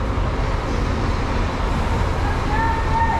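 A bus pulls into a small bus terminal near the Iran-Pakistan border. A loud, steady rumble of engine and road noise carries a rising whine near the end, with no voices.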